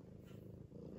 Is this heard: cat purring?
yes